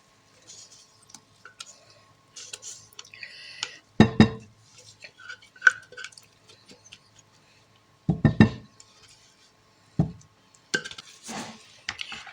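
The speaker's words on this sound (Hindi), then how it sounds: "इसको फेंटना है ताकि इसकी मिक्स हो जाए अच्छी तरह।" Yogurt, dry spices and garlic marinade mixed in a bowl, heard as scattered close clinks and scrapes of a utensil against the bowl with a few louder knocks between quiet gaps.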